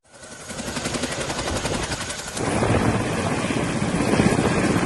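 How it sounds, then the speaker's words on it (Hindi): Indian Air Force Chinook and Mi-17 helicopters in the Kedar valley, a loud close rotor thudding with dense engine roar that swells and stays steady throughout. "इन दिनों वायुसेना का ये हेलीकॉप्टर चिनूक और MI-17 कुछ इसी तरह से केदार घाटी में मददगार बने हुए हैं"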